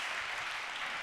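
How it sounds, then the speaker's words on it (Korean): Brief burst of steady audience applause at a church young-adults worship service, even and fairly faint, with no talking over it. "우리 위로와 격려의 박수 한번 보내주시겠어요?"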